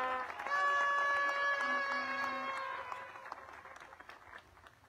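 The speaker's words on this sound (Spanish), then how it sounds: "Aplauso, por favor." A crowd applauds cyclists at the Vuelta a Guatemala 2022 ceremony, with sustained clapping mixed with held musical tones early on, then easing into scattered sharper claps as it fades.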